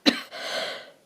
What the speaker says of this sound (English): I'm coughing at the moment.